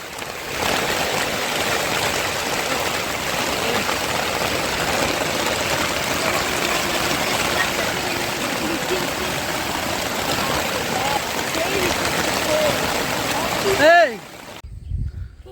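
Heavy rain pours steadily outdoors during a storm at a fishing trip on a wetland, a dense, even roar throughout that breaks into a brief close rustle and thump near the end.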